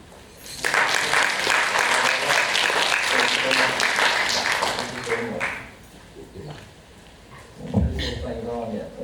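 A community networking gathering greets a guest speaker with sustained audience applause, dense clapping that lasts about five seconds before fading, followed by a brief murmur and a louder thump near the end.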